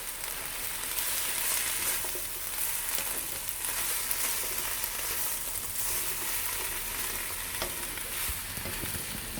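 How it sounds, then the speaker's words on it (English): Onion sautéing in a little oil for Thai green curry, a steady close crackling sizzle with occasional stirring scrapes and no voices. "And just saute it for about 5 minutes till you get the onion a bit soft"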